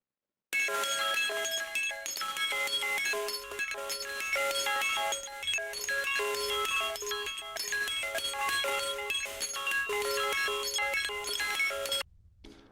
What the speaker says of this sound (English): That's kind of layered with the same chord that's also being arpeggiated of these bells that I recorded at like an emporium store.